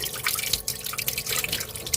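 Water splashes and drips from a camper van's hot water tap in short irregular bursts as air clears from the system, close by and fairly loud, with no voices.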